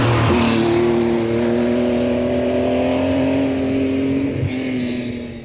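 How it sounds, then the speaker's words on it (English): A Porsche 911 rally car engine at the Safari Rally holds a loud, steady note with clear harmonic tones, dropping slightly in pitch near the end as the sound eases away, with no voices. "was then picked up by Aslam and Imran Khan in a Porsche 911, which ran faultlessly throughout the event, its engine note so reminiscent of the past."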